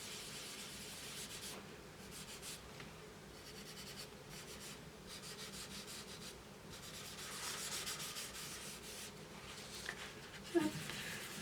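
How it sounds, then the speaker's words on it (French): Paper towel rubbed and scratched over a coloured drawing, a steady close scrubbing rasp with brief pauses throughout. "Et je trouve qu'avec le sopalin, c'est bien parce que ça gratte bien."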